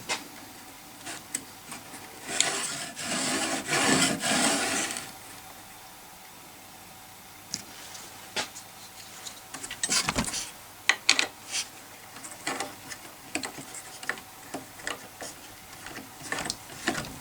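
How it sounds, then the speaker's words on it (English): A threaded knob is turned into a wooden block on a fret board jig for a string instrument, producing close, irregular clicking and ratcheting with scraping bursts and brief knocks, and no talking. "put this block back in place and put my threaded knob in"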